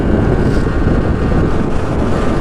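Yamaha R1-Z two-stroke motorcycle ridden at around 6,000 RPM, heard as a steady, loud engine drone mixed with strong wind rush over the microphone, with no voices.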